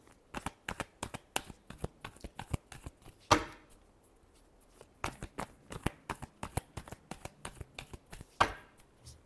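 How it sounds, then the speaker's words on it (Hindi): Tarot cards being shuffled by hand, a quick run of crisp riffling flicks and taps with brief pauses, close and fairly quiet, with no talking. "Last shuffle."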